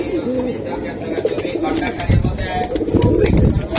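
Pigeons cooing at a pigeon market, including silver Giribaz pigeons, soft low coos close by under steady talking and background market chatter.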